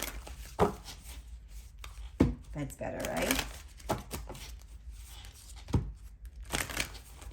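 Tarot cards are shuffled in repeated soft riffling bursts against a notebook, with a voice speaking briefly in between.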